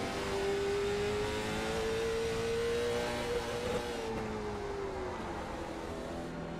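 Late model stock race cars roar past at Hickory Motor Speedway, a steady loud engine drone with a rising and falling pitch as cars sweep by, the noise fading slightly toward the end.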